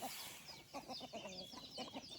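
Chickens cluck in a rural mountain village with fighting cocks kept, a busy run of short, close clucks and squawks over a hissy outdoor background.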